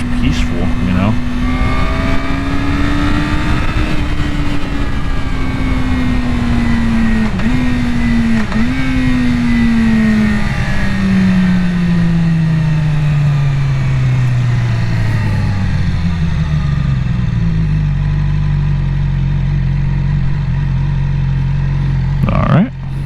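A Yamaha R6 sport motorcycle on its first ride of the year, engine loud and close as it revs up through the gears, pitch rising and dropping with shifts before slowing, under constant wind roar.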